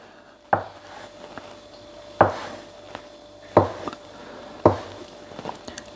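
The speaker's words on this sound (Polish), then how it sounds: "Więc kroimy to na kawałki." Food chopped into small pieces of about a centimetre on a wooden board, four loud separate knife thumps spaced a second or more apart with faint scraping between, no talking.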